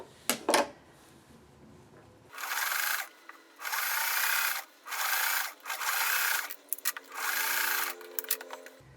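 A sewing machine top stitching fabric runs in four steady whirring bursts of a second or so each, separated by short pauses, close and clear, with brief handling clicks before the first run.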